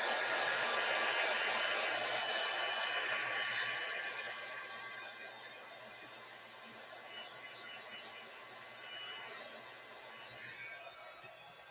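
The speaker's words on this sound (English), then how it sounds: "I need to blow dry this a little bit" A hair dryer blows hot air over a freshly stamped junk journal page, a steady loud whooshing hiss with a faint whine that eases a little partway through.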